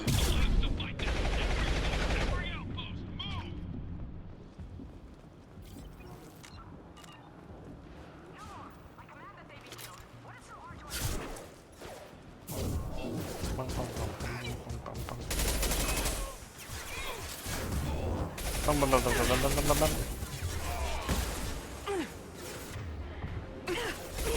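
Weapon fire in a BioWare space video game, bursts of loud gunfire and whooshing effects recurring across the stretch amid a busy game soundtrack, with a person talking over it.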